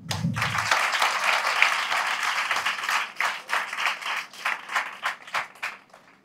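Audience clapping at a Balvikas education wing gathering in Vizag, opening with a dense burst of applause that thins into scattered, uneven claps fading out toward the end.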